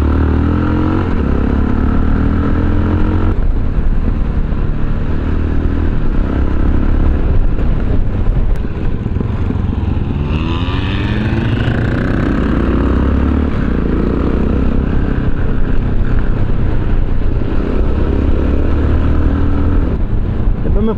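Mita 1609 vehicle driving through road bends, its loud engine droning steadily throughout with shifting pitch as it revs, close and constant with no pauses.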